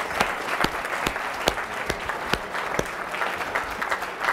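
An audience at a medical symposium gives the faculty a round of applause, a steady moderate clatter of clapping with a few sharper individual claps standing out.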